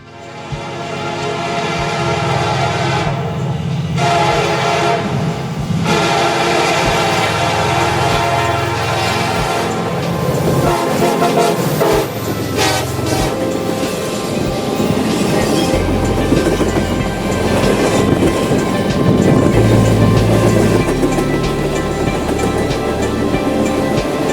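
A freight train rumbles past with steady wheel clatter, a horn sounding loudly in short blasts and then one long blast, close by.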